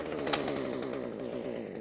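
A chainsaw runs steadily at a loud, close, buzzing idle-to-mid rev, with a brief louder blip early on and no voices over it.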